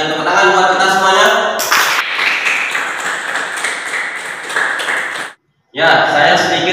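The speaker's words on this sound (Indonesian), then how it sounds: "Tepuk tangan buat kita semuanya" A classroom or school audience claps together after students answer during a lesson, with dense applause filling most of the clip, a brief silent gap, then more clapping and crowd noise.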